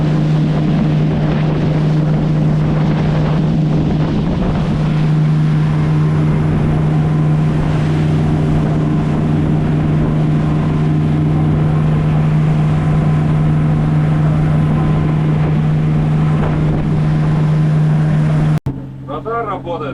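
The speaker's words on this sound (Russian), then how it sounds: "Двигателя работают. Вот так себя чувствуешь в мыльнице моторной." Motor yacht engines drive the boat at about 36 knots during a refit sea trial, a loud, steady droning roar with a strong low hum and rushing wind and water, cut off abruptly near the end.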